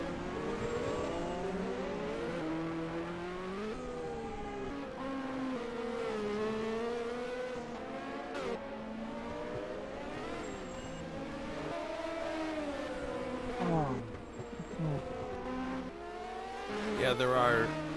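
1986 Formula 1 race cars at the Detroit Grand Prix street race, a continuous engine drone with shifting pitch as cars pass, heard steadily under commentators' talk.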